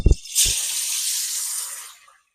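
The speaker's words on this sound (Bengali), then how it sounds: "তারপর মাছগুলোকে ভেজে নেবো আগে" Small fish drop into hot mustard oil with a short clatter, then a loud sustained sizzle and hiss that fades out after about two seconds.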